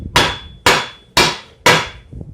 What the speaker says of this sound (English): You want to hit right here at the end of this weld yoke